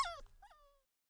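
A light brown cartoon puppy gives a short, close whimper that trails into a thin rising-and-falling whine.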